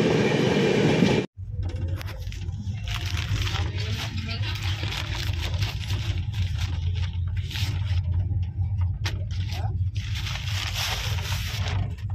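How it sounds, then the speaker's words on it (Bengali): A Rajdhani Express train rumbles steadily along the rails after leaving a station, with low, continuous rolling noise and occasional clacks and scrapes, after a brief cut at the start. "ঠিক 2 মিনিট দাঁড়িয়ে ট্রেন কিন্তু বড়সাত স্টেশন ছেড়ে দিল"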